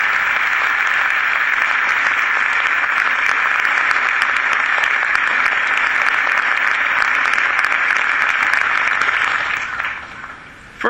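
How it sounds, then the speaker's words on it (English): Steady, dense applause from a large audience at a New York State of the State address, loud and sustained for about ten seconds before tapering off sharply at the end. "I'd ask us to give them a round of applause now"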